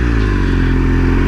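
A 2016 BMW R 1200 GS Adventure motorcycle being ridden, its engine a steady, loud low drone that holds even throughout, close up with no talking.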